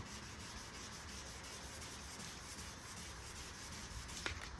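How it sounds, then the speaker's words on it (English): Steady, even block sanding of a car's clear coat, dry, continuing without a break at a low, close-up level. "when I get to sanding this here"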